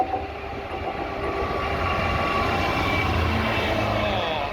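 Class 66 diesel locomotive in red livery with DB markings hauling a container freight train through Suffolk, a steady loud rumble with rail and engine noise sustained throughout.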